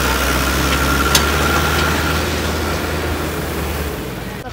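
Powertrac 439 tractor engine labouring under the load of a full trolley, a steady low diesel drone with a deep rumble that eases off slightly toward the end, close and loud.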